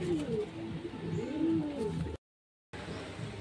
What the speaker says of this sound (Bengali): এবার পায়রাটাকে ছেড়ে দেবো।